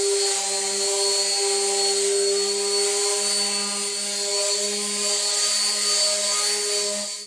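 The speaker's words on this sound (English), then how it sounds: "and then we'll give it another sanding" A power sander works steadily across a wooden end-grain cutting board, a continuous loud whine with a strong tonal hum running unbroken throughout, fading only at the very end.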